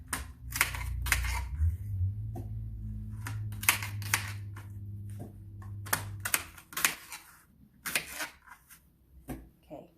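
A knife chopping a crisp Fuji apple on a cutting board, with a string of sharp, close cuts and knocks at an uneven pace and a low hum underneath.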